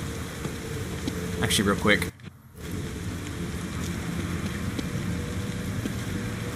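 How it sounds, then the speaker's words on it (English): Steady rain falls in the horror video game The Evil Within, a continuous hiss that briefly dips before resuming, while someone talks over the first couple of seconds. "Rain's going to wash away any evidence."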